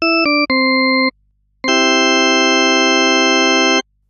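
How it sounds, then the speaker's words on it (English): Serum synth tones built by additive synthesis: three short stepped harmonic-rich notes, a brief gap, then one long sustained bright tone rich in stacked harmonics, clean and loud with no talking. "you can hear I'm adding in all the harmonics"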